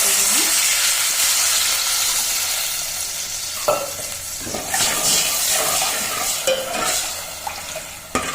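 Tamarind juice for North Karnataka bhaji boils vigorously in a pan, a continuous close bubbling and hiss broken by several sharp clinks and scrapes of a spoon stirring.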